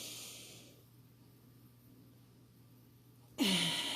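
A deep breath during a guided relaxation exercise: a close, soft, airy exhale at the start, quiet for a few seconds, then a sharper, louder rush of breath at the end.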